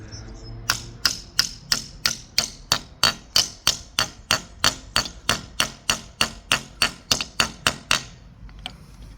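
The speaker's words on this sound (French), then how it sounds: "Et après, tu mets ton rivet à frapper" Strike rivets are hammered into the rails of a pool liner in a steady series of about twenty sharp metallic blows, close and evenly spaced, with no talk.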